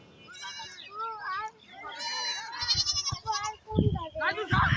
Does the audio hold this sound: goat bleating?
yes